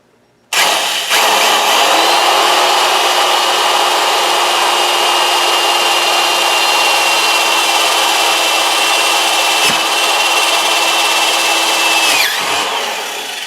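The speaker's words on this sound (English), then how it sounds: "Now with our 4 holes drilled, we can remove the clamps" A power drill bores a hole into a clamped Tonka toy truck part, a loud steady motor whine starting abruptly, running about eleven seconds with a brief catch, then spinning down.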